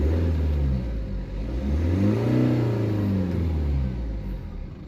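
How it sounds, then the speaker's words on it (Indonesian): BMW 320d F30 LCI sedan diesel engine revved in a few throttle blips, engine note rising and falling steadily up close, loud and alone. "Coba kita gas sedikit."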